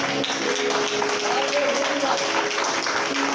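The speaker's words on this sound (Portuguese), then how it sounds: "pode dar um aplauso ao Senhor?" A church congregation applauding steadily throughout, a dense wash of clapping with a voice speaking over it.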